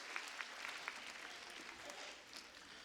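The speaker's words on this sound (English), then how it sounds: "give these two brothers applause for their self-reliance" An audience at a school moving-up ceremony for a performing and visual arts magnet school applauds, a faint, distant, steady patter of clapping through the hall.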